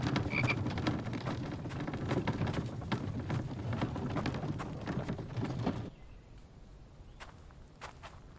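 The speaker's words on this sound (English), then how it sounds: "Where did that frog go?" Frog croaking in the survival game The Infected, a dense run of croaks over a busy outdoor ambience with footstep-like thumps for about six seconds, then cutting away to quieter surroundings with a few sparse clicks.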